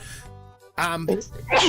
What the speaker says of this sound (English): No, it was a dry sneeze.